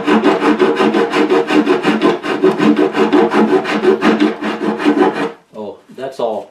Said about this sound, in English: just file the edge of the bottom part so it'll lay flat